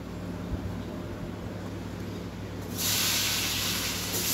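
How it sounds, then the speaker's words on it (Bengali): Brinjal frying gives a soft, steady hiss that swells into a louder, brighter burst of sizzling in the last second and a half, with no talk. "বেগুন ভাজাটা আরম্ভ হলো।"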